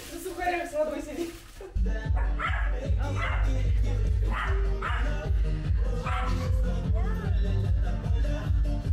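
A dog barks and yips repeatedly beneath loud, bass-heavy music, with voices mixed in.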